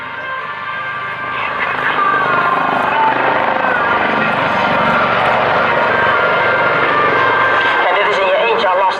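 Loud, steady roar of Royal Navy Lynx helicopter engines and rotors close by during a flying display at an air show, with a voice talking over the din throughout.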